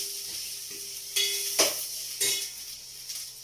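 Sambar ingredients sizzle in a pan, a steady hiss broken by a few louder bursts of frying and the scrape of a stirring spoon, close and without talk.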